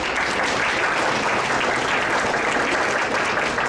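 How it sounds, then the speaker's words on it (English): A crowd applauds at an honoring ceremony for volunteers, with thick, steady clapping held at an even loud level for several seconds. "Let's give a round of applause for Mai Hugh Truck."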